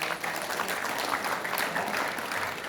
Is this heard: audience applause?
yes